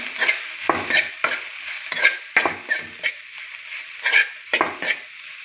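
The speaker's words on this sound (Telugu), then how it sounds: "మునగాకు వేసానండి పోపులో" Drumstick leaves dropped into hot tempering oil in a home kitchen fry with a loud crackling sizzle, broken by repeated scraping stirs in an irregular rhythm, close by and with no talking.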